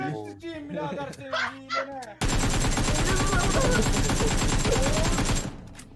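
A voice talks briefly, then a loud, sustained burst of rapid gunfire from a shooting video game fills the rest of the clip before cutting off.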